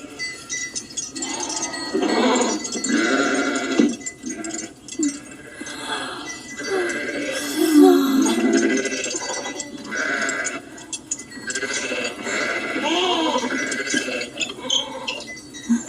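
Sheep and goats bleat at a desert well, several animals calling in overlapping, wavering cries one after another, loud and close throughout.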